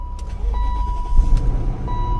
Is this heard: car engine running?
yes